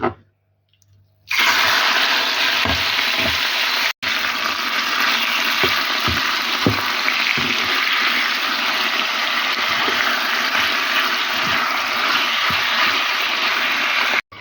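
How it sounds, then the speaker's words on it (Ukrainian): Diced chicken fillet sizzling in a hot frying pan with a little oil, a loud steady hiss and crackle that starts abruptly and runs continuously, with small pops and spatters throughout. "порізане м'яско відправляю на розігріту пательню з невеликою кількістю олії"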